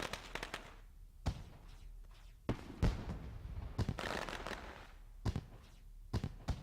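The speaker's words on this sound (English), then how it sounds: "And fireworks still sounding off in the backstretch." Fireworks go off at a stock car race track's backstretch after a SARA super series race, a series of irregular sharp cracks and booming pops with lingering rumble in between, no voices.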